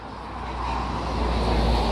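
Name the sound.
Porsche Cayenne car driving by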